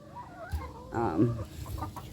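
A backyard chicken clucks and croons close by in a short, rising burst, followed by softer murmured clucks.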